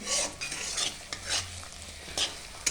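An egg fries in oil in a karahi, a steady close sizzle broken by intermittent scraping strokes of a stirring utensil against the pan.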